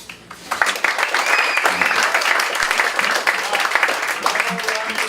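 Sustained audience applause at a live cabaret-style song performance, a dense, steady wash of many hands clapping that fills the room from start to finish, with faint voices mixed in.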